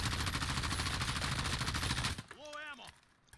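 In Call of Duty, a custom M4 build fires a continuous full-auto burst from the hip at a plywood target. The burst is loud and rapid, runs for about two seconds and then stops abruptly into quieter game sounds.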